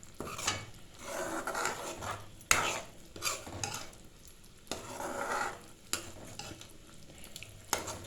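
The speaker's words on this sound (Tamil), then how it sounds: "அந்த பருப்பு கூட இந்த தக்காளி பேஸ்ட்டையும் சேர்த்து கிளறி விட்டு ஒரு 2 மினிட்ஸ் கொதிக்க விடுங்க" Lentils mixed with tomato paste are stirred in a cooking pot for a manathakkali (black nightshade) greens kulambu, giving repeated scraping and rasping strokes with sharp knocks of the spoon against the pot, steady and close with no talking.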